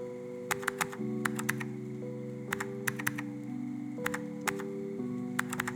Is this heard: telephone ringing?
no